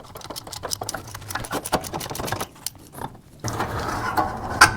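Ratchet wrench with a 5/8 socket working loose the lower alternator bolt on a Ford F100, a close run of quick clicking bursts with brief pauses, then a denser steady stretch of clicks near the end.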